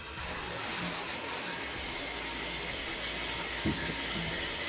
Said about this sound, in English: we test out the shower, see what the water pressure's like